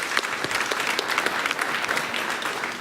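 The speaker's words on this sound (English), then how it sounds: "let's have a round of applause for that" An audience at a talk on battery energy and Puerto Rico's power grid gives a steady round of applause, dense clapping held at an even level throughout with no voices on top.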